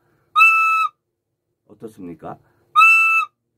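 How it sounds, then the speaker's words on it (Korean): A recorder blown hard with the mouth sounds two loud, bright, shrill notes at one pitch, each about half a second long, with a short spoken question between them. "세게 부르면 이런 소리가 나요."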